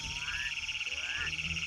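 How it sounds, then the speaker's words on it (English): A male North American spadefoot toad calls in the desert at the first rain, two rising, buzzy croaks in quick succession over a steady insect-like drone, loud and close. "the male North American spadefoot toad calls out to females."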